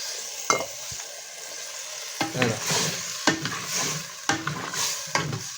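Rice and chapatis stirred together in a pan make bursts of scraping and crackling sizzle, each lasting about a second, separated by short quieter gaps. Close and moderately loud.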